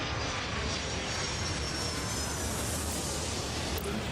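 Airplane engines roar continuously as planes land in the airport control game Airport Madness, a dense, loud, unbroken drone with no talking.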